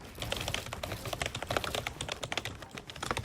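Rapid, uneven clatter of keys on a computer keyboard used with custom key binds for playing Fortnite, close and crisp, with dense bursts of presses and no talking.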